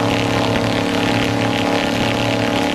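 High-powered V8 engine driving propellers to blast wind at a vinyl privacy fence, a loud, continuous close-up roar with a steady, deep droning hum and no pauses.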